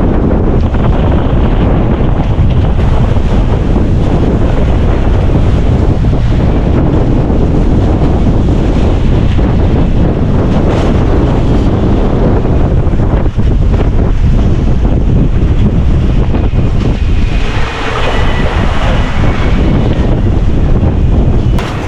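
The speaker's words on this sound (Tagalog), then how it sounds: "Malaki pala mga karabas sa mga alon dito sa West Philippines eh." Big sea waves in the West Philippine Sea surge and crash around a boat, a loud, continuous roar of water buffeted by heavy wind noise throughout.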